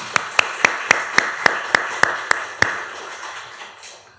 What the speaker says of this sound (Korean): 3번째, 격려와 축복의 박수